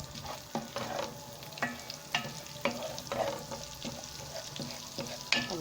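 Garlic and dried coriander fry in rendered duck fat with a steady close sizzle, broken by repeated scraping stirs and clicks of a utensil against the pan.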